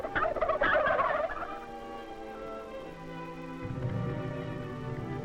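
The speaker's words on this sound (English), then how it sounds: "Vermont turkeys are known and prized throughout the country." Turkeys on a Vermont farm gobble in a loud rattling burst, then trail off into lower, drawn-out calls from the flock, with no voices over them.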